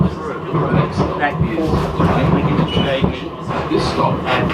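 Route 58 tram to West Coburg running along Park Street in Melbourne, its rolling rail rumble and wheel clatter going on steadily beneath people talking nearby.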